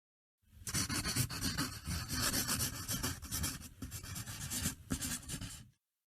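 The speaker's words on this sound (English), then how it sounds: "She draws around her hand." A pencil or crayon traces around a hand on paper at school, giving a continuous close scratchy rubbing with brief pauses as the stroke changes direction.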